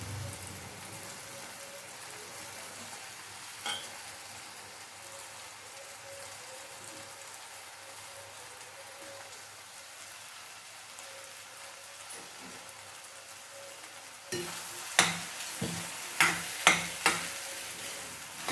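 Okra (bhindi) being stir-fried in a pan for a Maharashtrian bhaji, a soft steady sizzle that turns louder with several crackly bursts as the okra goes in near the end.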